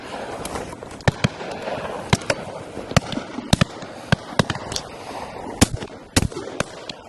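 Sharp, loud shotgun reports crack at irregular intervals during a field sports shoot at Warter Priory, some shots in quick pairs, over a murmuring outdoor background with no clear speech.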